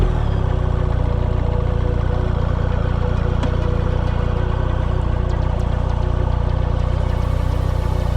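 A BMW R1300GS motorcycle engine starts cold and settles into a loud, steady idle close by, with a continuous low rumble and no speech.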